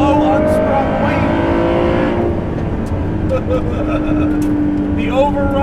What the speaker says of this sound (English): The overrun, that ain't electric, folks, that's happening.